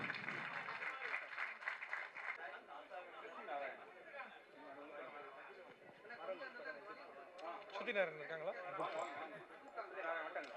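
Audience applause at a Tamil film awards ceremony, a broad wash of clapping from a large crowd that swells and fades, with hall chatter and voices mixed throughout.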